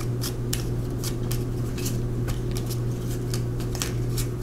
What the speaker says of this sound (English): I shuffle the whole deck.